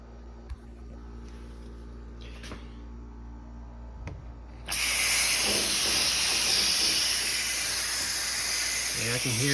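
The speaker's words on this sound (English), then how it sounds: "let's take a water hose." A garden water hose sprays onto an air conditioner's condenser coil during DIY cleaning, starting abruptly as a loud, steady, close hiss that runs on under a low hum, with a few faint knocks before it.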